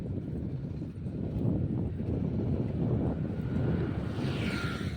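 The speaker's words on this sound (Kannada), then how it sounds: "ಒಂಚೂರು ಸಿಕ್ಕಾಪಟ್ಟೆ ಗಾಳಿ ಇದೆ." Strong wind blows across a large open paddy field in Talaguppa during rainy weather, a loud steady roar buffeting the microphone with gusty low rumbles the whole way through.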